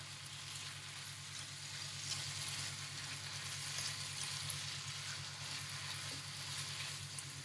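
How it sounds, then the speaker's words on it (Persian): Mushrooms sautéing in a pan with macaroni sauce ingredients, a steady close sizzle and crackle running without pause under a faint hum, no talk. "قارچی رو که به این شکل خورد کردیم اضافه میکنیم به مواد ماکارونی. یه تفت کوچولو قارچ رو میدیم"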